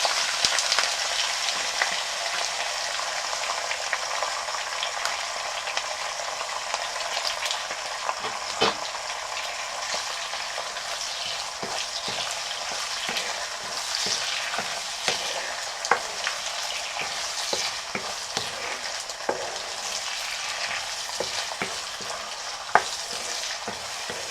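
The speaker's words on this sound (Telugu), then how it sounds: "సో ఇప్పుడు ఆయిల్ కాగింది, అందులో నేను ఈ దొండకాయలు, పచ్చిమిరపకాయ, కరివేపాకులు అన్నీ కలిపి వేసేసుకుంటున్నాను." Ivy gourd, green chillies and curry leaves fry in hot oil with a steady, continuous sizzle and crackle, scattered sharp pops and occasional stirring clicks throughout, close and without talk.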